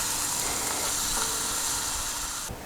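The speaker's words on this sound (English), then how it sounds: "And you can hear that sizzling." Celery, onions and carrots frying in a Dutch oven over a campfire give a dense, steady close sizzle, loud and unbroken, with a faint clink near the end and no voices.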